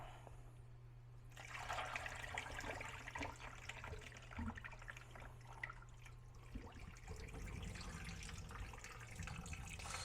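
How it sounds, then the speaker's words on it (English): Water drained out of a cooking pot into a sink, a steady rushing, splashing flow that starts abruptly and runs continuously, close and fairly loud, with no talking. "Let's start draining this out."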